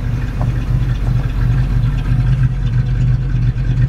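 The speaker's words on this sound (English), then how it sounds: "Car seems to be running nicely, idling well." A 1963 Chevy Nova's engine idles steadily up close, a smooth low rumble with a faint even pulse and no voices over it.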